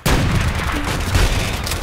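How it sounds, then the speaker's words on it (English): A loud shotgun blast in the ape shooter video game Apewar hits sharply, then rolls into a dense, booming roar that fills the rest of the moment, close and heavy. "Oh, I got shotgun."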